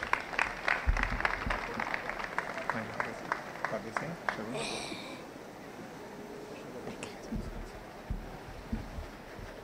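An audience at a 60th birthday celebration claps, crisp overlapping hand claps at first that thin out and fade, with crowd murmur and voices mixed in.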